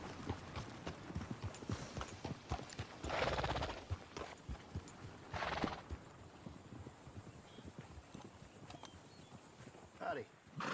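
A horse in the video game Red Dead Redemption 2 clip-clops on hooves and gives a couple of short whinnies, with footsteps and faint speech mixed in at close range.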